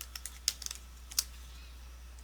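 Keys on a computer keyboard clack in a quick, uneven burst of light taps followed by a few isolated presses, close and fairly quiet against a soft steady hum.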